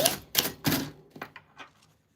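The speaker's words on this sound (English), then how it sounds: "Isn't it so good, the sound of typewriters?" A typewriter clacks through about seven keystrokes in two seconds, close and crisp, the first strikes loud and the later ones lighter and fading.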